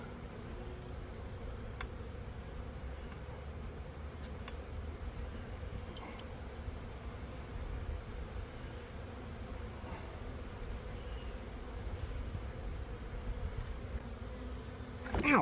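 A low, continuous buzzing of honeybees close by at a hive, a steady droning hum with faint scattered rustles underneath.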